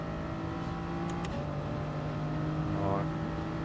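Car engine in the GT Sport racing video game, a steady droning hum with a brief rising rev and gear change, playing under faint background noise.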